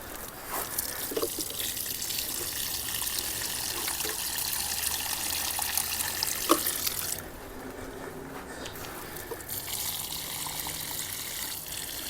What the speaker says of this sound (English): I'm giving them quite a bit of water.